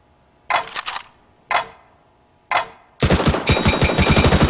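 Gunfire from the game CS:GO, aimed at a target: three separate single shots with pauses between them, then a loud rapid burst of automatic fire, close and with no talking.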